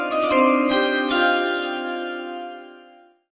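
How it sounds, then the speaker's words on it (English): A bright chime sound effect rings out in a few quick struck tones, then a long resonant bell-like tail fades away to silence, with no voices present. "Chime. Let's bring it."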